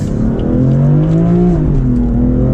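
A BMW M4 F83 convertible accelerates hard, its engine note climbing steadily through the revs with brief dips where quick gear shifts land, loud and close throughout with no talk.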